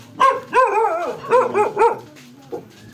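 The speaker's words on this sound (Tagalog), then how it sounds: "Ayun, may aso." A dog barks several times in quick succession near a house, loud and close, with a yipping, slightly whiny tone and a short pause before a final softer bark.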